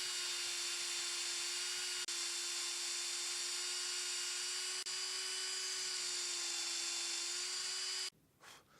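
A power drill bores screw holes into the wooden armrest of a handmade Maloof-style rocking chair, a steady high-pitched whine held for about eight seconds with two brief dips, then it stops abruptly and a faint shuffle follows.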